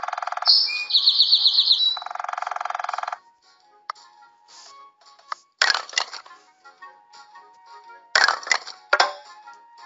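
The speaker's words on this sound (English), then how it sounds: "Woodpecker. Birds." A bright bird trill and chirping open the clip, followed by scattered sharp knocks and bursts of woodpecker pecking, with faint bird calls between them.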